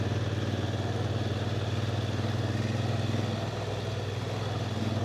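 A motorcycle cruising along a bumpy rural road, its engine humming steadily and loud close by with a constant droning tone and rumbling road noise, no talking.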